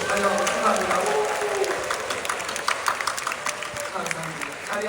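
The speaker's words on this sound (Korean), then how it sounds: "다시 한번 뜨겁게 박수로 환영하고 축하합니다." A church congregation at a summer retreat closing service claps warmly, a dense steady applause from many people that thins slightly toward the end, with a few voices mixed in.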